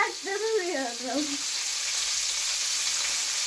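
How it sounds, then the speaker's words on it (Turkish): Fish frying in hot oil, a loud continuous sizzle with crackling oil spatter, close by; a brief voice sounds over it at the very start, then the sizzle carries on alone. "Ama yağ da sıçrıyor."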